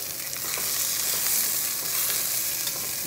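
Celery and other vegetables sauté in a pan, giving a continuous loud, bright sizzle with faint stirring ticks throughout and no voices.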